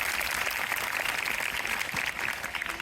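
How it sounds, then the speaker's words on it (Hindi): Applause rolls steadily from a crowd at a Constitution Day school ceremony in India, a continuous wash of clapping throughout with no voices standing out. "एक बार जोरदार तालियां सबके लिए"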